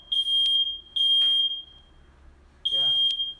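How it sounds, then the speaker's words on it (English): A smoke alarm sounds three shrill, piercing beeps separated by pauses, loud and close, with brief rustling between them. "It's good to know what they sound like. Sometimes smoke alarms sound different as well."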